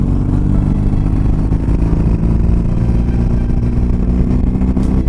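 A BMW R18 Transcontinental motorcycle engine drones steadily in high gear at about 4000 rpm, a constant, moderate pitch, running smoothly and loudly throughout with faint mechanical clatter and no voices.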